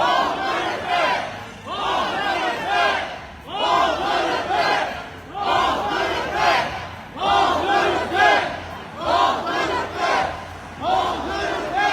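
A protest crowd at a demonstration in Montreal chants in loud, rhythmic bursts, many voices shouting together in repeated phrases with short pauses between, sustained and close throughout.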